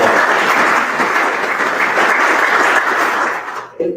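Audience applause at a petroleum industry gathering in Oklahoma, a loud, sustained wash of many people clapping that fades off near the end, with no talk over it.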